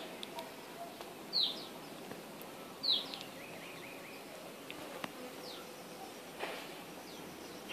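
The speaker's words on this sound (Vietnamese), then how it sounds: "Đàn ong này mạnh lắm." Honey bees buzz faintly around a strong colony at the hive outdoors, a soft steady drone with a couple of brief bird chirps rising above it and no talking.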